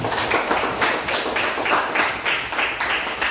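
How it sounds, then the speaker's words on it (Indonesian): A classroom of students claps hands together in a steady, rhythmic unison pattern, the beats close and loud with no talking over them. "Tepuk tangan."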